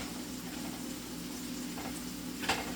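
Onions and mushrooms frying in a pan give a soft, steady sizzle with a low background hum, broken by a brief scrape or clatter near the end, quiet and without talking.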